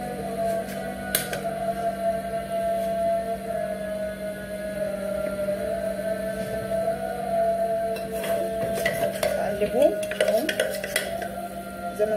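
A utensil stirs ghee and vinegar in a pan, giving soft scraping clinks and faint sizzling over a constant low hum.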